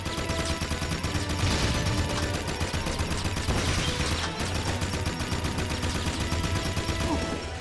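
Continuous rapid gunfire from the Jak 3 video game runs throughout, a dense, loud barrage of shots with no pauses and no talk over it.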